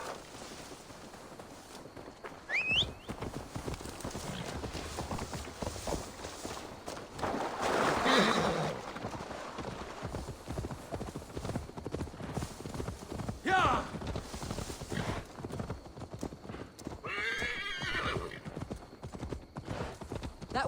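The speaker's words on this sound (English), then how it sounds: "Now to deliver Magni his horse." A horse walks with steady clip-clop hoofbeats in Assassin's Creed Valhalla, joined by a few brief whinnies and character voices speaking over the game sounds.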